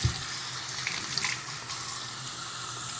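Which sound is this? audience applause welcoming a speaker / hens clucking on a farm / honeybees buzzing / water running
water running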